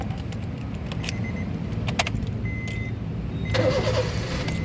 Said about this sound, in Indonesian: coba kita nyalakan mobil